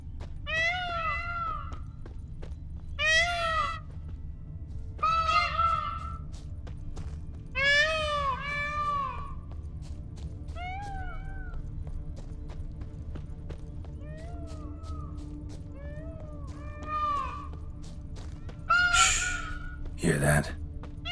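Birds in The Witcher 3: Blood and Wine call back and forth in a series of harsh, cawing cries spaced every couple of seconds over a low ambient game backdrop, with a brief louder burst near the end.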